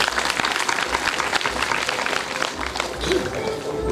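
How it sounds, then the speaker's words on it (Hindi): Audience applause at a welcome and honouring gathering for a 24-kund yagya, dense sustained clapping from a crowd filling the room, steady and fairly loud throughout with no pauses. "ताली बजाइए सर"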